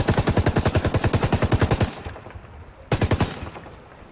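Rapid automatic gunfire from Ghost Recon Wildlands weapons sounds in a sustained burst, stops briefly, then resumes in a shorter burst, loud and close.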